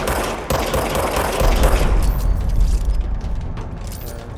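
Gunfire in the video game Control: a dense, loud barrage of shots and booming impacts with mechanical clatter, continuous and close, fading slightly toward the end.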